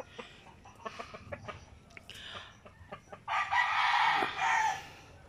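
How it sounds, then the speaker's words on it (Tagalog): Chickens cluck in short bursts on a farm, then a rooster lets out a loud, drawn-out crow close by. "Ayan mga manok, kalidad nila mga katambay."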